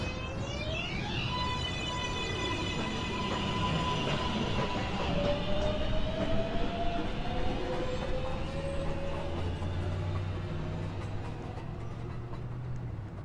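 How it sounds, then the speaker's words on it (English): A Manhattan-bound New York subway 1 train at Beverly Road rolls through with steady rumbling and squealing wheels, the pitch bending as it moves. Low motor drone builds toward the end. "This is a Manhattan-bound 1 train."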